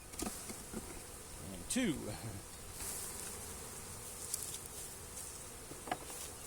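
Honeybees hum around an opened beehive during an inspection, a faint continuous drone with brief nearer passes, while a person speaks a couple of words.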